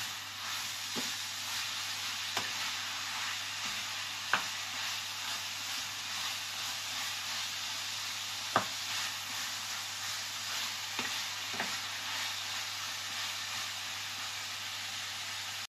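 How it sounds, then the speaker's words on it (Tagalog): Onion and garlic sizzle in a pan with a steady, even hiss, punctuated by a few sharp clicks and taps of a utensil against the pan. "Para lang maiprito lang po natin ng kaunti sa sibuyas at bawang."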